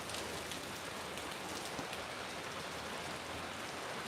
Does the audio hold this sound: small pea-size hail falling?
yes